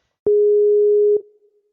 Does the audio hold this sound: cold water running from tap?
no